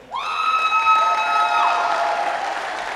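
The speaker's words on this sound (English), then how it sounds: "Hold your applause" Crowd applause and cheering at an awards banquet, with a sustained whistle-like tone sliding in at the start over steady, full-room clapping.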